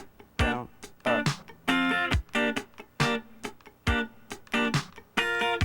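Funk rhythm guitar part played slowly: crisp, muted strummed chord stabs in a steady up-and-down pattern, each hit ringing briefly before being choked off, clean and close with no talk.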